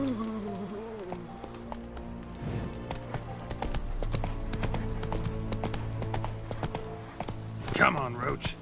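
Hooves of Geralt's horse Roach clip-clopping at an easy pace in The Witcher 3, a soft steady patter under background music, with a short horse snort near the end.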